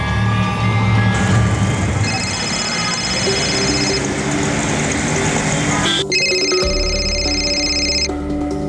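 A telephone rings in a home, steady repeated electronic ring tones over a dense dramatic background score, fairly loud and continuous without speech.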